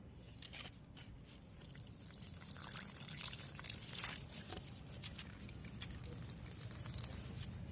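Water mixed with asafoetida and turmeric is poured at the base of brinjal plants, a faint, steady close trickle and splash lasting several seconds with no talking.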